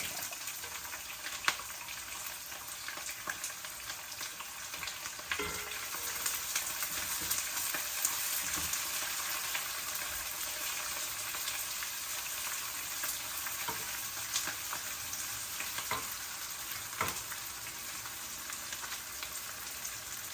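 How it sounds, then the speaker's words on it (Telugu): Onions frying in a pan for broccoli upma, a continuous bright sizzle with occasional scraping stirs and clicks against the pan, steady and fairly close, no talking. "ఉల్లిపాయలు కొద్దిగా వేగనిద్దాం ఉల్లిపాయలు వేగుతున్నాయి కదా"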